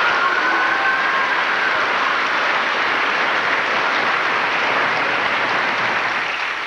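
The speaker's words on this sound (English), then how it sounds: "I want to hear some applause." A live studio audience at a 1991 talk show featuring Don Majkowski claps in sustained, dense applause that stays loud and even throughout.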